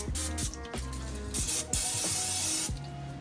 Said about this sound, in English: First thing, we need to spray the inside of it